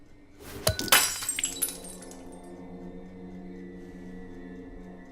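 A glass of Amontillado sherry is knocked from a hand and shatters with a sharp crash, followed by a brief scatter of tinkling shards and a faint ringing fade in a quiet room.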